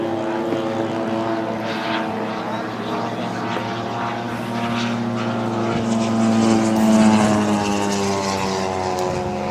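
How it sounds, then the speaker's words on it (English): A model L-39 jet aircraft at a model fly-in gives off a sustained, loud engine whine and drone that swells as it passes overhead, then eases off again. "Watch this one. It's the jet."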